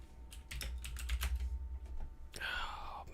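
Quick, uneven keystrokes on a computer keyboard clatter close by in irregular bursts, followed by a brief rising whir near the end.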